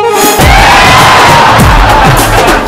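A studio audience at a Telugu TV comedy show erupts in loud, sustained cheering and clapping, a dense crowd roar that runs unbroken and close-up for the whole stretch.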